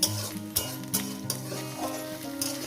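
Mustard greens mashed with small river chuna fish fry in a pan, a steady sizzle under repeated stirring scrapes and clinks of a utensil, close and fairly loud with no talk.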